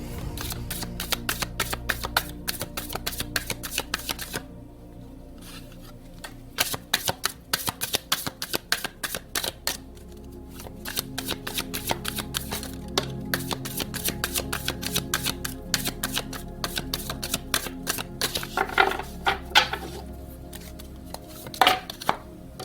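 Tarot cards being shuffled by hand in repeated riffling bursts, close and fairly quiet, with short pauses between rounds of shuffling and no talk over it.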